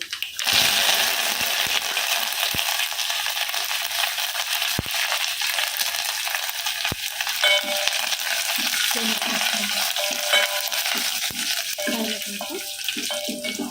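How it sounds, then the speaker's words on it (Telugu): A tempering with curry leaves fries in a pan for moong dal tomato curry: a loud, continuous close-up sizzle with scattered pops and occasional stirring clicks throughout. "ఫ్రై అవుతున్నాయి కదా"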